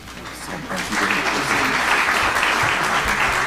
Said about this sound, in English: another round of applause for those amazing students and alumni